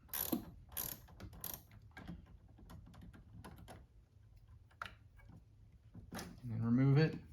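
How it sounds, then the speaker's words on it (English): Clicking ratchet-like turns of a 10mm wrench loosening the 12V battery terminal on a 2017 Chevrolet Bolt EV, a series of quick metallic clicks in bursts, close and moderately loud, with a short louder scrape near the end. "So using a 10mm wrench, go ahead and loosen that."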